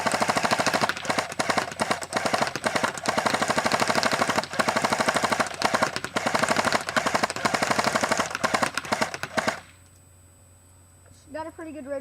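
An airsoft gun fires on full auto in a rate of fire test, a loud rapid stream of shots lasting about nine seconds before it stops, followed by brief faint talking.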